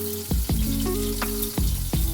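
Chili garlic oil sizzling in a pan with a yellowfin fish steak, a constant close hiss broken by several sharp spatters and pops, with a low hum underneath.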